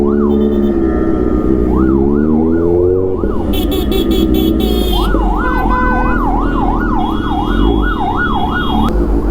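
A fire engine pushes through Bengaluru traffic, its siren rising and falling in quick regular sweeps, with a burst of horn blasts midway. A heavy engine drone runs underneath throughout.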